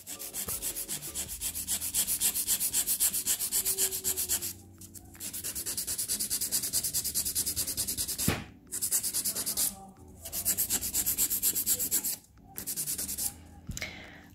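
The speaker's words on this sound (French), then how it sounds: "on va venir limer notre capsule" A gel nail extension capsule is filed into a stiletto shape, giving a long run of rapid, close rasping strokes broken by a few short pauses and light knocks.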